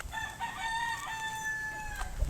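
A gamecock rooster crows on a fighting-cock farm, one long drawn-out call with a clear, strained tone over steady outdoor background noise.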